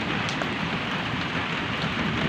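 Heavy rain pours steadily and loudly on surfaces, a dense, unbroken hiss with no voices over it.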